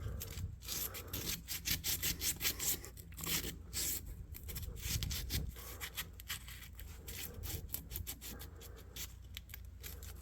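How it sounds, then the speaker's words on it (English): Sandpaper rubs down inside the back-spring channels of a folding knife being restored, a steady run of quick, close, dry scratching strokes with brief pauses between. "A little bit of sandpaper really helps down in the channels."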